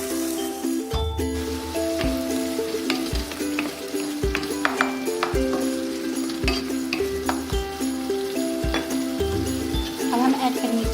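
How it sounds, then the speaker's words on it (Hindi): Tomatoes cook with salt in a pan for chicken keema pasta, giving a steady sizzle broken by regular scraping stirs, close and moderately loud. "टोमेटो भी थोड़ा सा कुक कर लेते हैं।"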